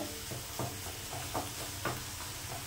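Bottle gourd cooked with poppy seed paste is stirred in a hot pan, with a few soft scraping strokes over a steady background sizzle.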